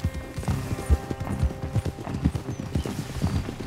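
Horse hooves clip-clopping steadily in Red Dead Redemption 2, several riders at a trot or canter with a rapid uneven beat, loud and close over a continuous game soundscape.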